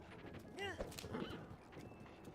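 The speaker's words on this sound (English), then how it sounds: "we're gonna ride from one horse to the next" Horse riding in the video game Zelda: Breath of the Wild: a quiet, brief whinny and clip-clopping hooves play under game background sound.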